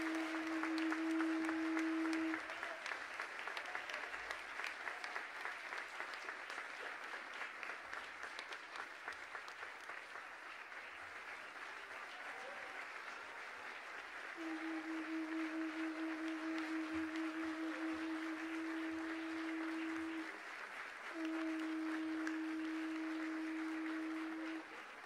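Sustained audience applause at a doctorate honoris causa ceremony, steady broadband clapping from a large crowd lasting throughout, with a faint electronic tone sounding in the background at times.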